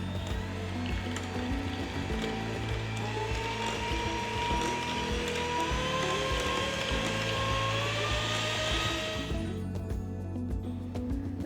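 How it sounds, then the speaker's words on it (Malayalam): An electric hand beater whirs steadily through a bowl of oil, sugar, salt and coffee powder, a constant close motor hum with a rising whine that stops abruptly near the end. "ഇനി ഇതൊന്ന് ബീറ്റ് ചെയ്തെടുക്കാം"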